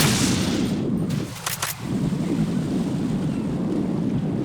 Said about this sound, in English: The delay between firing the gun and the bullets hitting the target.